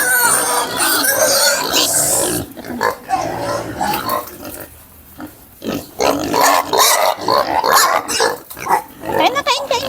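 Hungry pigs at feeding time on a farm, a loud close chorus of squeals, grunts and oinks that surges, drops briefly, then swells again, with a voice talking over the animals.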